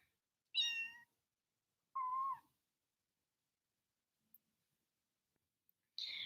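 Kitten meowing indoors, three separate high cries spaced a second or more apart, close and clear against near silence with a couple of faint small knocks.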